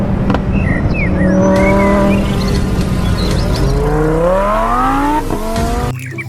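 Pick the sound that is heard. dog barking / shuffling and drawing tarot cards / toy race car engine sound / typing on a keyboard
toy race car engine sound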